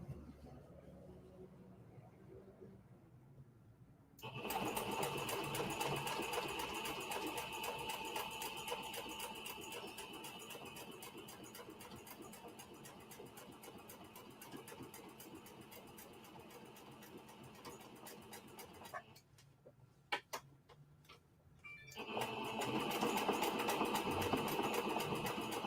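A sewing machine stitches denim while jeans are turned into a skirt, a loud, steady rapid whir running for about fifteen seconds, then a short pause with faint clicks before the stitching starts again.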